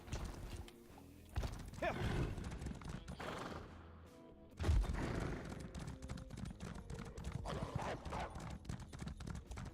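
Horse hooves clip-clopping steadily during riding in the video game Elder Scrolls Online, a rhythmic trot close by, with a pause and a thump midway before the hoofbeats resume.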